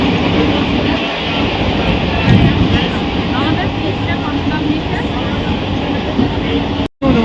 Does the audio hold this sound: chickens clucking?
no